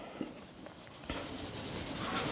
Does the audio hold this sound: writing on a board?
yes